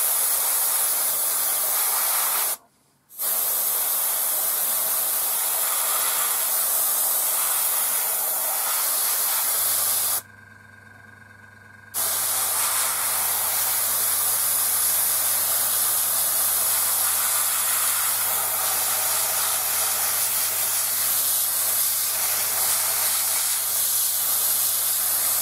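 An airbrush hisses in long steady sprays of paint onto a 1/72 scale model aircraft, broken by two brief pauses, with a low compressor hum joining partway through. Nearby and continuous, no voices.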